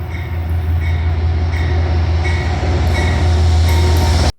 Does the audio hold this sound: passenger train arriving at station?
yes